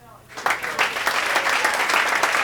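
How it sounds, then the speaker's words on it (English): Applause swells abruptly from a quiet room after a brief moment of speech, becoming a dense, sustained burst of clapping from a sizeable audience close by. "put your hands together when I flash this applause sign"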